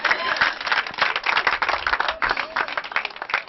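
An awards ceremony audience claps, dense, lively applause at close range with some voices mixed in, steady for a few seconds.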